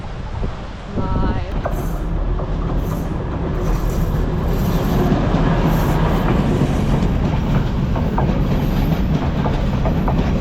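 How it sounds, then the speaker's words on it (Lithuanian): A train rumbles past loudly and continuously with rhythmic clickety-clack and wind noise buffeting the microphone throughout, in Sri Lanka. "traukinys važiuoja"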